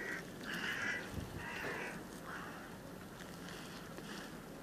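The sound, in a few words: crow cawing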